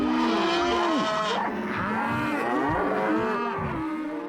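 Several cows moo loudly over one another, long bellowing calls overlapping in a steady chorus of cattle.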